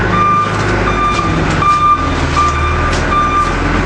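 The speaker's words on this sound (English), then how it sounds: "Dozer's working on clearing the parking lot, which is wonderful." Bulldozer clearing a snowy parking lot after a snowstorm, with its reversing alarm beeping in a steady repeating pattern over a loud, constant diesel engine rumble, close by and without talk.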